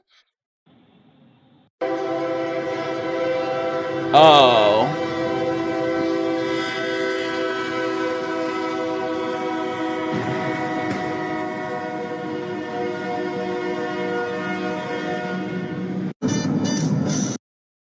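A train rumbles steadily past a railroad crossing at close range, its horn blaring loudly through most of the pass, with a brief spoken exclamation partway through.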